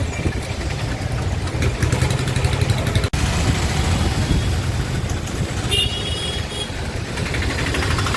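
Busy morning street traffic of motorbikes, scooters and bicycles, with a steady close engine drone and idling rumble continuing throughout, one brief sharp click midway, and light passing-vehicle whine near the end.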